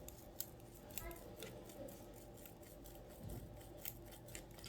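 Scissors snip through macrame cord for a crystal point necklace, a run of quick close crisp cuts at an uneven pace in a quiet room with no voices.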